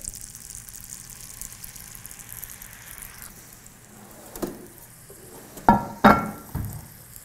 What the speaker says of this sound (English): Now I'm gonna cook the spaghetti in the fat.